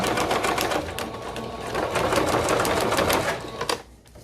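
A sewing machine runs a straight stitch, its fast, even needle rattle steady and close for several seconds before stopping abruptly near the end.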